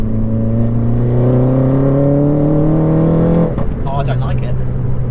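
Mini GP2, a 278 bhp stage 2 car, pulls hard with a loud engine note climbing steadily for about three seconds, then a sharp drop at the shift before revs build again; voices talk over the second half.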